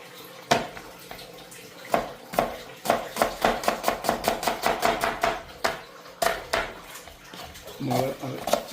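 Onions chopped finely on a kitchen board, a series of sharp knife taps, sometimes rapid and rhythmic, sometimes spaced, close and clear, with brief speech near the end.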